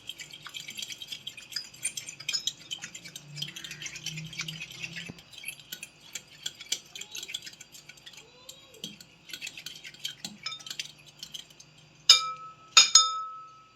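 A spoon works through salt, black pepper, mint and fresh coriander in a bowl for a noodle kebab mix, giving soft scraping and scattered light clinks. Two sharper glassy knocks ring out near the end, with no talking.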